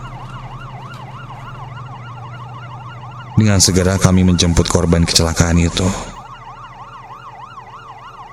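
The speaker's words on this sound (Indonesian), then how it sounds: "Bunyi sirine ambulanku memecahkan telinga di kesunyian malam yang dingin." A wailing ambulance siren rises and falls steadily throughout as a sound effect in a radio drama, with someone speaking over it for a few seconds in the middle.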